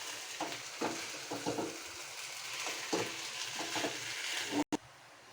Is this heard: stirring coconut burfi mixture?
yes